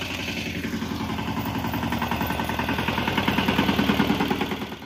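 A tractor engine runs close by on a farm, a steady rhythmic diesel chugging that grows gradually louder over several seconds, with no talking.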